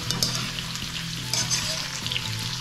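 Potatoes for dum aloo fry in a pan, making a continuous crackling sizzle with soft stirring scrapes, close and fairly loud.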